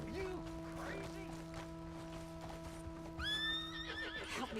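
A horse in the Red Dead Redemption 2 video game whinnies loudly in rising, shrill calls over clip-clopping hooves and a steady background hum, with game sounds around it.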